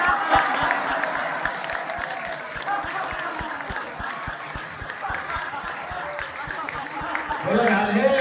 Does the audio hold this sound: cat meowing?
no